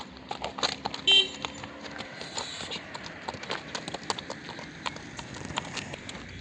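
Hooves of a purebred Karabair horse clip-clopping in a steady rhythm at close to moderate distance, with a brief louder knock near the start and low background noise.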